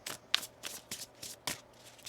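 A tarot deck shuffled by hand in quick, even strokes, about six soft, crisp riffling swishes close by, quiet and without speech.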